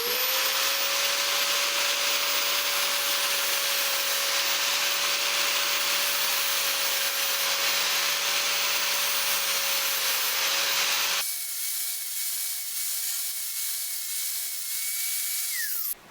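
A lawnmower blade clamped in a vise is ground with a continuous loud abrasive whine that holds steady, then abruptly drops to a thinner, quieter grinding tone for the last few seconds.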